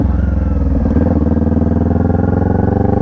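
Motorcycle engine idling and running steadily with a constant rumbling pulse as the rider pulls in the clutch and turns, close and continuous with no voices.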